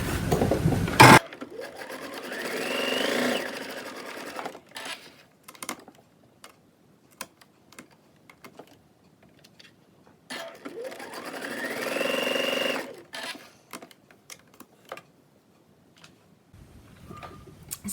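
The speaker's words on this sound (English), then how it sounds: "we're going to sew across the top here and across the bottom." Sewing machine stitching across pleated face mask fabric, two separate runs of moderate loudness with quiet ticking and clicks between them.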